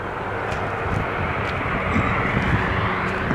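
A 1961 Corvair Lakewood wagon, back on the road after 49 years off it with a freshly redone clutch, drives along with a steady, loud engine and road roar that holds evenly without any breaks.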